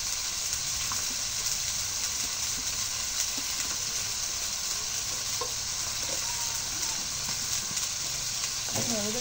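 Ground cumin and garlic paste dropped into a hot frying pan in a home kitchen, producing a loud, continuous sizzle with stirring scrapes and a few faint clinks.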